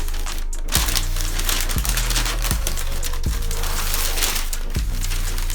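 Packing paper crinkles and rustles in bursts while a Nike x Sacai Tour Yellow sneaker box is unwrapped, close and fairly loud, with regular soft thumps underneath and no talking.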